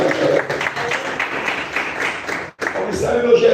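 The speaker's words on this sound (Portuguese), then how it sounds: "Uma salva de palmas para Jesus." A crowd claps steadily in a dense, sustained round of applause, briefly dipping before continuing.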